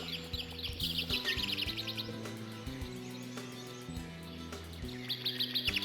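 Birds chirp loudly in rapid twittering bursts within the PC horror game Alone in the Dark, sounding at the start and again near the end over a low, repeating synthesized music bed.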